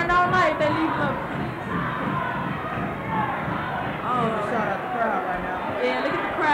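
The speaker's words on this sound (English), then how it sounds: "The crowd's going well after that tip dunk." Excited basketball crowd at a January 2001 game at Westinghouse, cheering after a tip dunk; a dense, sustained roar of many voices with whoops and chatter, loud and continuous throughout.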